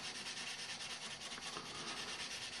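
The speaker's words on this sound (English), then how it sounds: "When you're sanding on a curved edge, make sure you move back and forth." Hand sanding a curved edge of car body on a 1962 Mercury or 1972 El Camino: a steady, close, rasping rub in quick back-and-forth strokes, continuous and alone.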